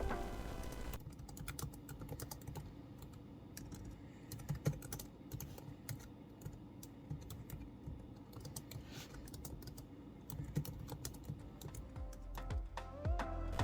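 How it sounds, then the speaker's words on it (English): Rapid typing on the keyboard of a 16-year-old Toshiba laptop, with close, steady key clicks and occasional heavier keystrokes running continuously throughout, no voices. "This is how the keyboard sounds."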